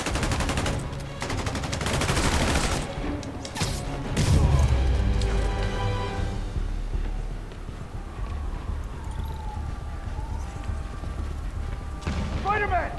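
Gunfire in the PC remaster of the Spider-Man video game, a dense run of shots and booms amid chaotic game action, with voices talking over much of it.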